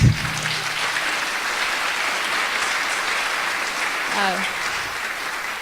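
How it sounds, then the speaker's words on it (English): A crowd at an opening session applauds at the speaker's request, a sustained even wash of clapping from many people with a brief voice cutting through near the end. "So if I can ask the crowd to clap for me, please."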